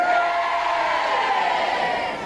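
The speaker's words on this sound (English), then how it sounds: "there's a great crowd here in Plymouth" A large crowd murmurs and cheers inside a bingo hall in Plymouth, a dense, steady roar of voices heard up close for a couple of seconds.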